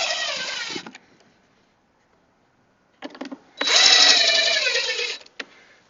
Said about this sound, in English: drill it straight in